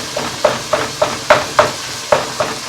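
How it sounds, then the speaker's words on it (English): A rusty spoon stirring and breaking up ground beef and Italian sausage as it fries, with about eight distinct scraping knocks at irregular intervals over a faint sizzle. "Just gonna cook it, breaking up the pieces with my rusty spoon here."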